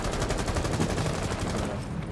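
Rapid, dense gunfire from a Rainbow Six Siege match fills the whole stretch, loud and close with repeated sharp reports, including shotgun blasts, and no clear talk over it.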